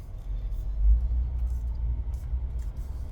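A 1994 Toyota Land Cruiser FZJ80 pulls away in drive, its low engine rumble steady and fairly quiet, rising briefly near the start before settling into an even drone.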